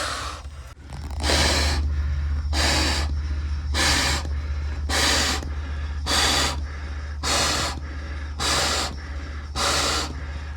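Heavy, loud breathing in a University of Idaho steam tunnel: about eight deep, rhythmic gasping breaths close to the microphone over a constant low mechanical hum.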